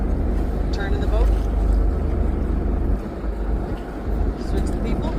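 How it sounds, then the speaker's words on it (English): A whale-watching boat turning off Monterey gives a steady low engine rumble with wind noise, which eases partway through, while people talk faintly over it. "Switch the people, turn the boat."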